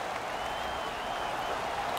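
A hockey video game crowd cheers and applauds after a fight, a brief, dense roar of noise that holds steady from start to finish.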